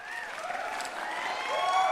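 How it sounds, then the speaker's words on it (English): Applause sound effect played on a magic livestream: a steady wash of clapping hands from a crowd, sustained and even throughout, slightly swelling toward the end, with no talking over it. "Thank you kindly for the applause, Chan."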